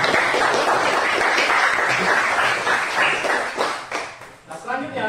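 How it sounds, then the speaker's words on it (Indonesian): Students in a classroom clap together in a burst of applause that slowly thins out and fades, while voices talk over the end. "Tepuk tangan untuk kita semua."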